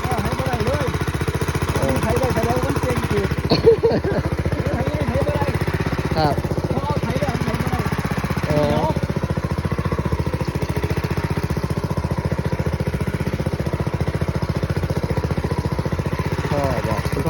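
A small two-wheel walking tractor with two forward gears and one reverse plows sticky clay soil in a field in Kalasin, Thailand. Its engine chugs steadily and close by throughout, while people talk over it.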